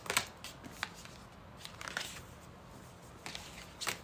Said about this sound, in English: Sorry, I'm just sorting out these cards.